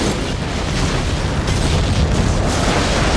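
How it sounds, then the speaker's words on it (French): A loud, sustained explosive roar from a spaceship, with a depressurizing airlock adding a steady rushing blast that fills the whole stretch without a break. "il faudra plus qu'une explosion et un sas dépressurisé"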